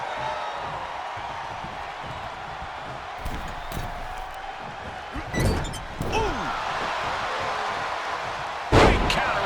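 A half and half suplex in WWE 2K23 wrestling lands as a heavy thud on the ring over a steady arena crowd roar, followed by a few more impacts and a sharp final slam near the end.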